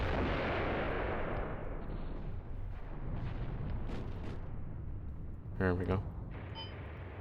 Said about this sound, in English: Airstrike, here it comes.